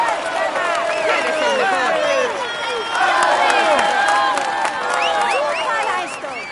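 Crowds clap and cheer at a stage of Tour de France 2017 on PS4 in Saint-Girons–Foix, a continuous roadside roar of applause and shouts heard under a commentator's voice.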